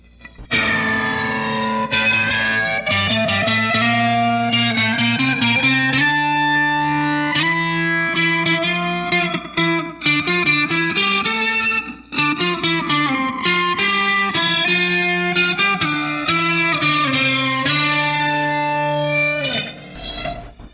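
Electric guitar played through a Danelectro Sitar Swami pedal, strummed and picked phrases with a buzzy, jangling sitar-like drone and a sweeping flanger-phaser quality, loud and continuous with short pauses; no talk.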